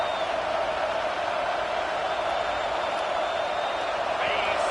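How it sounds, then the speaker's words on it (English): A stadium crowd at an Illinois vs Nebraska college football game roars for a 4th down stop, a loud, sustained wall of noise with a voice talking over it. "This crowd busting the decibel meter and trying to will a 4th down stop."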